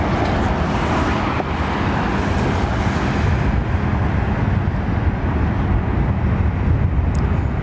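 A large aircraft taxis over concrete and tarmac segments at London Heathrow Airport, giving a steady, loud low roar with wind-like rumble and no clear breaks.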